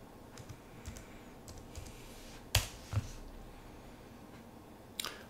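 Computer keystrokes on a Debian 12 Xfce desktop come as a few sparse, faint clicks, with one sharper tap in the middle and another near the end, over quiet room hiss and no talk.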